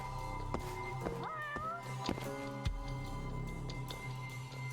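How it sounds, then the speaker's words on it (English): A video-game cat meows several times, with short, clear, rising calls spread across a quiet background of game ambience and faint clicks, with no talking. "The meow came from this side"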